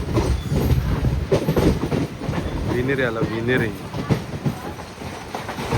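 A passenger train rolls along the rails on the Chiplun to Mumbai line near Vinhere, with a steady rumbling clatter and a wavering metallic squeal midway, while a voice speaks briefly over the noise.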